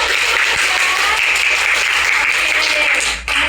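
A classroom of students claps together in a brief, lively burst during a microteaching lesson, a dense wash of hands at close range that drops off abruptly at the end.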